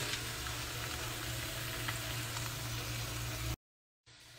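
Onions frying in butter in a pan, a faint, even sizzle and crackle that carries on steadily, then cuts out abruptly near the end.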